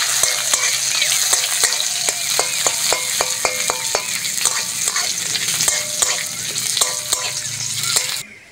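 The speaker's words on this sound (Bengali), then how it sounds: "কাজু, কিশমিশ ভালো করে ভেজে নেবো কাজু কিশমিশটা" Cashews and raisins fry in hot fat with a steady, close sizzle, while a spatula scrapes the pan in regular strokes that stop just before the end.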